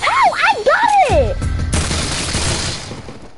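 Video game gunfire erupts as a loud burst of booming shots and crashing noise, following excited voices at the start.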